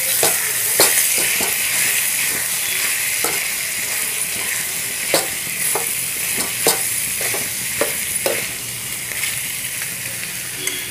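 Ghee-fried tomatoes being stirred into a mixture in a pan, loud close sizzling and hiss with repeated sharp scrapes and knocks of a spoon against the pan, no talking.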